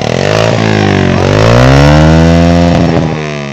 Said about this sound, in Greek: Λέω θέλω να τα ακούσω αυτό το μηχανάκι